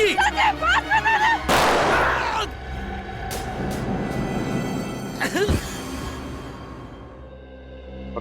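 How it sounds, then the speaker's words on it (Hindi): A gunshot in the Hindi TV crime drama CID rings out as a loud, sharp burst of fire, with a long reverberant tail and noisy rumble trailing after it, amid voices and other scene sounds. "मैं गोली चला दूंगी।"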